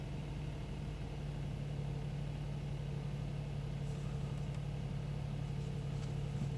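A Kia Stinger fitted with a ProTuner chip runs at a steady idle in its first start after the install. The low engine rumble stays even and continuous for several seconds at moderate level, with no talking over it.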